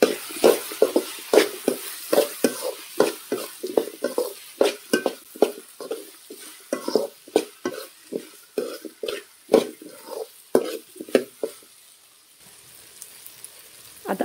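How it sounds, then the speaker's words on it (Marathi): Turmeric is stirred into potatoes frying in a pan, with a steady run of rhythmic scraping and clinking strokes from a spoon over a soft sizzle, close and fairly loud, easing off near the end, with no voices. "हळद एकदा मिक्स करून घ्यायची।"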